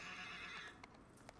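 A horse in the Shadow of the Colossus video game gives a short, quiet whinny, a wavering neigh that fades quickly, followed by a couple of faint hoof taps.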